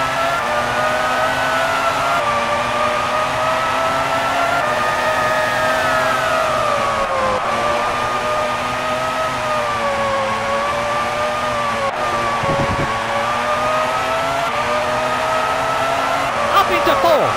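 A Formula 1 car engine in the 1997 Formula 1 video game drones loudly throughout, its pitch climbing and dropping sharply as it shifts up and down through the gears, with a brief tire squeal near the end.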